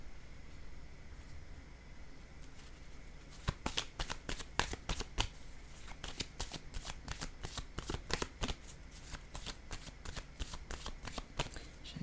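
Tarot cards are shuffled in rapid riffling bursts and set down on a table, giving crisp, close papery flicks over quiet background hiss.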